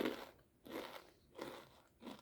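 Takis Volcano cheese and chili rolled tortilla chips are crunched in the mouth, four loud close bites and chews in a slow steady rhythm, alone without speech.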